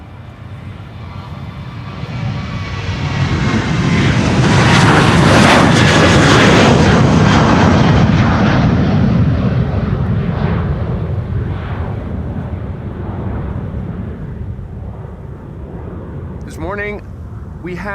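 A jet airliner takes off from the Polderbaan runway at Amsterdam Schiphol on a windy day, a loud roar swelling over several seconds, then slowly fading as it climbs away, with brief wind buffeting near the end.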